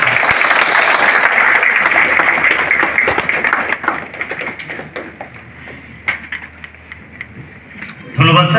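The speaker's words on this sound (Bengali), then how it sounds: "আপনারা করতালি দিন সবাই" Applause from an audience at a meeting on natural farming, a dense sustained patter of many hands clapping that slowly thins and softens, ending with a brief louder burst.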